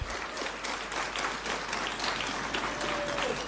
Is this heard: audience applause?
yes